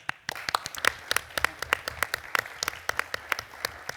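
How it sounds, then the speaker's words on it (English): Scattered audience applause with distinct individual claps in an uneven rhythm, moderately close and fairly light, as a small crowd greets a speaker being introduced. "Give him an applause."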